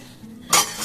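A dish set into a flat bowl while draining homemade paneer: a single bright clink of ceramic contact lands midway, sharp and close against a faint room hum.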